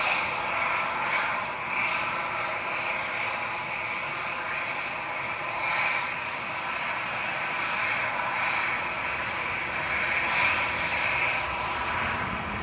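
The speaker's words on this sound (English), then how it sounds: "Qatar flight 23 from Doha, A7BHB, touching down now" A Qatar Airways Boeing 787-9, registration A7-BHB, arriving from Doha touches down at Manchester Airport with a steady, moderately distant engine roar that holds throughout.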